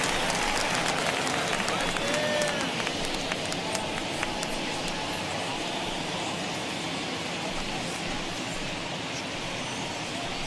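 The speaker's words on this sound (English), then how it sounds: "the home crowd seems a little restless" Crowd noise at a 1979 Yankees at Angels baseball game, a steady restless murmur with scattered shouts, whistles and claps in the background.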